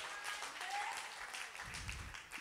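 A church congregation claps during a sermon, a steady wash of applause from many hands at moderate distance, fairly faint.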